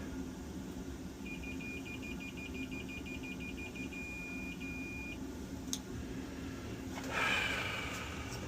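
A multimeter's continuity beeper buzzes in a steady high tone for about four seconds while a Weil-McLain boiler part is tested, heard over a constant low room hum, followed by a faint clatter.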